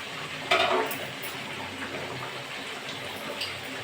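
Prawns with ridge gourd, potato and pumpkin fry and sizzle in a pan while being stirred, a close steady sizzle with a sharp scrape of the spatula near the start and soft stirring clatter after.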